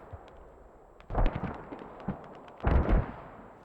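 Two heavy booming impacts of mortar fire in the Squad military video game, each a deep thump with a rumbling tail, spaced about a second and a half apart, with faint clicks between.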